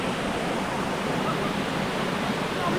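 A waterfall at Sarugudu near Vizag pours in a steady, dense broadband roar, near and constant throughout with no breaks.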